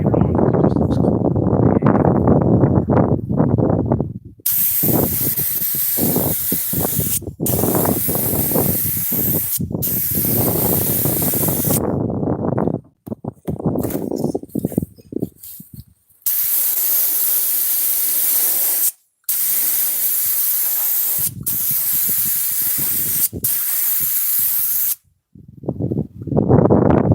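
Clear coat spray paint hisses from a spray gun in long, loud bursts that start and stop abruptly, with short silent gaps and a few brief puffs between passes.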